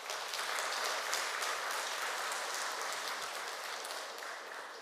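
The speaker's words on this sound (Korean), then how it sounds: "박수 한번 쳐주세요." A crowd applauds steadily for several seconds during a Won Buddhist temple sermon, dense clapping from many hands that tapers slightly toward the end.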